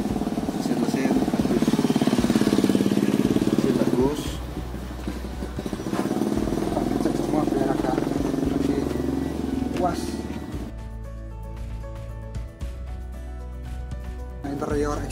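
A motorcycle engine runs steadily with a low, continuous drone, and a voice talks over it for most of the clip.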